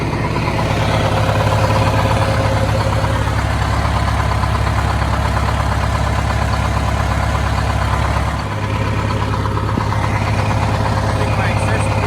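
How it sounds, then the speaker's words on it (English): A 1971 Insley excavator's engine idles steadily with a loud, constant low rumble, and a brief dip in level appears near the end. "1971 Insley Excavator. Wow, she sounds good."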